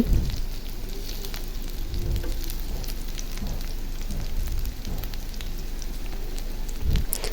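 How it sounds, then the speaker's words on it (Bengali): Onions fry in oil in a home kitchen while coriander-leaf bharta is being made, giving a steady, close crackling sizzle with a few louder pops and no talk. "আমি পেঁয়াজটা ভেজে নিতেছি"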